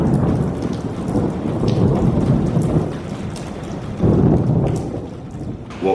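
Heavy rain pours steadily in a full thunderstorm while deep rolling thunder swells twice, loud and close, with no voices.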